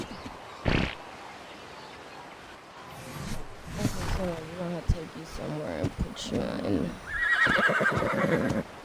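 Horses neigh in the video game Ark: Survival Evolved, one sharp whinny near the start, then a series of loud, wavering neighs and snorts, ending with a high, trilling whinny. A voice can also be heard.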